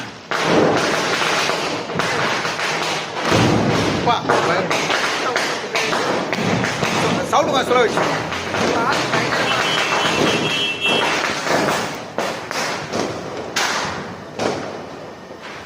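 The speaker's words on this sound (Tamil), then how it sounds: "எல்லாம் பட்டாசு வெடிக்க ஆரம்பிச்சிட்டாங்க" Sharp Diwali firecracker bangs pop irregularly in the distance in the evening, some close together, while people keep talking over them.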